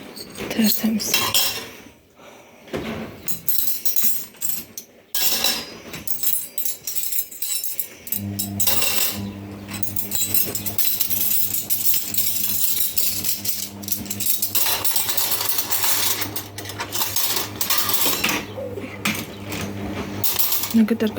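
Stainless steel spoons from a new cutlery set clink and rattle as they are handled and shown off during home cleaning, with bursts of metallic chinks over a steady low hum and brief talk nearby.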